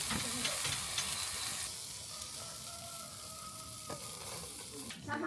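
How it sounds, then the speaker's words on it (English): Food sizzles on a barbecue in rural China, a steady crackling fry with hiss and stirring scrapes, moderately close, with a faint tone rising briefly in the middle. "It's sizzling."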